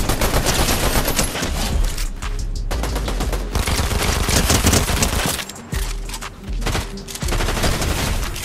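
Gunfire from a Fortnite Zero Build squad match: dense, loud volleys of rapid shots fill nearly the whole stretch, with only brief lulls between bursts.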